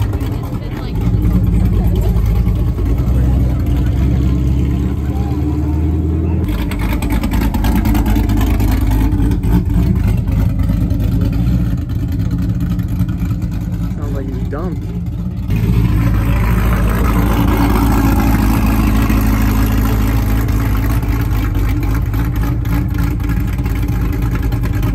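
A Chevrolet Corvette C7 arriving at a street racing meet at a gas station, its engine rumbling steadily and loud throughout, with brief revs over the idle and people talking nearby.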